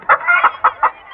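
Country hens cluck in four sharp, close bursts with short gaps between them. The clucks carry loud and clear and nobody speaks over them.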